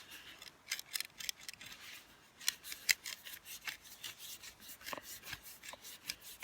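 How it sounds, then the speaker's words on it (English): A knife carves a small notch into wood for a friction fire, making a series of quiet, close scraping strokes in an uneven rhythm. No one talks. "So I'll take my knife and I'll go about right here."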